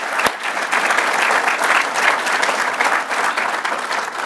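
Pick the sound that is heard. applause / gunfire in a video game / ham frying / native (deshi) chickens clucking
applause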